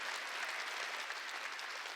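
Congregation applauding during a Korean church worship service, a steady, dense wash of clapping hands that holds at an even level throughout, with no speech rising above it.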